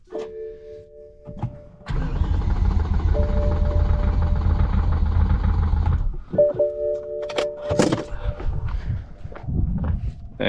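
A BMW E60 M5 with a cylinder 1 misfire cranks and fires up, the engine roaring loudly for about four seconds before cutting off, with clicks and handling noises around it.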